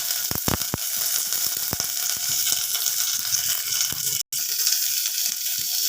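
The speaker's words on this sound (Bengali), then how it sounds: "এবারে আমি এই কারি পাতাগুলো দিয়ে দিলাম। সর্ষেটা হয়ে গেছে ফোড়ন।" Curry leaves and mustard seeds sizzling in hot oil as a tempering for chicken, a loud continuous hiss with a few sharp crackles and pops, close up.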